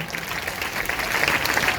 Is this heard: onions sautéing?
no